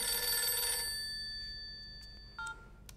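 A mobile phone left indoors rings with a bright electronic ringtone that cuts off, then a couple of short tones follow in a quiet room.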